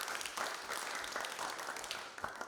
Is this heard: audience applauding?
yes